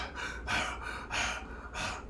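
A man imitates heavy breathing on a late-night voicemail, producing three loud, rhythmic, raspy inhale-exhale gasps close to the mic.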